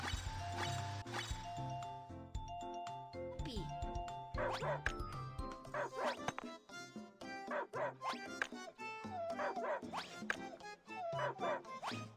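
An injured cartoon puppy whimpers and yips in a string of short, high, pitiful cries over bright background music, close and fairly loud.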